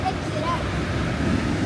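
Steady roar of large storm waves on the sea at Batumi, with wind buffeting the microphone throughout and no distinct breaks.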